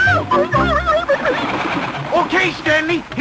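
A pigeon-like bird coos in a 1930s Laurel and Hardy comedy scene, warbling repeated calls close by, tangled with a voice throughout.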